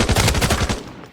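Rapid automatic fire from a DVC 12 rifle in the Arena Breakout Infinite shooter: a loud, tight burst of about ten close shots in quick rhythm, ending with a short decaying tail.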